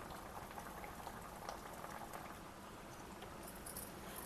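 Leafy greens dal (palakura pappu) bubbling steadily in a pot on the stove, a continuous close, moderately loud simmer with frequent small pops and bursts and no talking.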